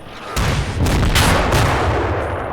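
Rocket MLRS artillery fire in the World War II strategy game Combat Mission Red Thunder at the Seelow Heights battle, a dense loud roar of overlapping launches and blasts rumbling steadily without a break.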